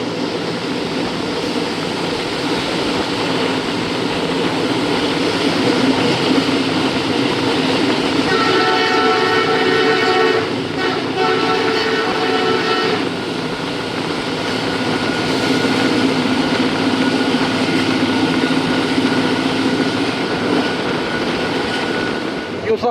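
The Pak Express passenger train rumbling steadily along the rails near Yusufwala station, loud and close, with a sustained horn blast sounding midway through.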